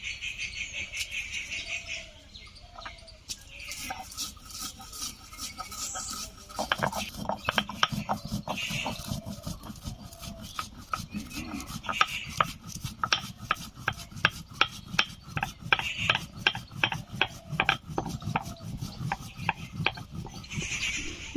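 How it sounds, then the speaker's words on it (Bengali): Fried spices being ground for mung dal with tomato, a rhythmic scraping and knocking of stone or pestle, steady repeated strokes close by, with no talking. "এখন আমি এই ভাজা মশলাগুলো বেটে নিচ্ছি"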